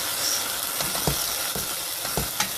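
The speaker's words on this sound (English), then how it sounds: "So I will just stir this into the pan." Molasses being stirred into meat in a hot pan while cooking Bajan pelau rice, giving a steady close sizzle with a few soft scraping stirs and no talking.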